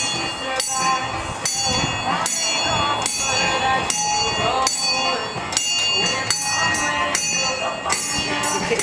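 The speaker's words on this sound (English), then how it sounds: "can you just show him how to ring the bell?" A small handbell on a boat ride is struck repeatedly by a child, ringing in quick irregular clangs that overlap and decay, close and loud, with voices talking underneath.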